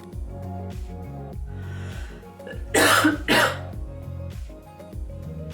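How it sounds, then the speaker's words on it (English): Two harsh, close coughs burst out in quick succession midway, with a quiet background tune playing before and after. "It's just a cough."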